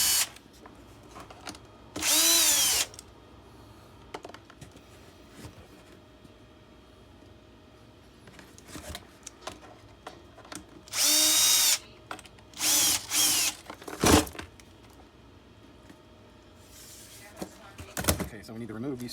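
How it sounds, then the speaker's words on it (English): Several bursts of a power drill loosening screws on a cordless vacuum during battery replacement, one long run early and a cluster of shorter bursts later, with quiet handling noises and brief talk between. "You can either use a drill or you can use a screwdriver."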